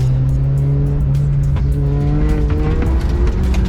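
A Renault Clio drifts with a steady droning engine and a rising whine of squealing tires, loud and continuous throughout.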